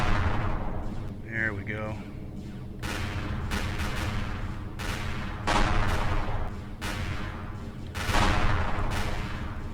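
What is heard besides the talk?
plasma cannons firing in video game Empyrion Galactic Survival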